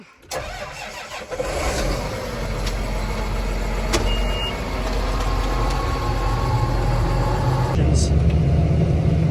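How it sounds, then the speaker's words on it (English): A John Deere 8530 tractor engine cranks and catches, then settles into a steady, loud diesel running rumble heard from inside the cab, with a brief rise in pitch near the end. "Start the tractor, get things fired up."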